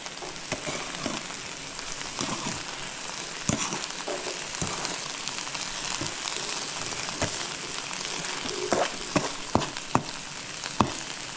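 Tomatoes cook in a covered pan with a steady, close sizzle and crackle, scattered sharp pops and ticks rising more often toward the end, without talk.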